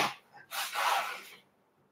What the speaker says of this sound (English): allow me to blow my nose.